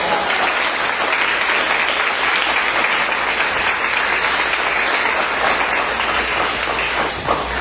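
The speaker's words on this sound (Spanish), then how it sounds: "Denle un fuerte aplauso al Señor." A church congregation gives a loud, sustained round of applause, dense and continuous clapping from many hands filling the room for several seconds.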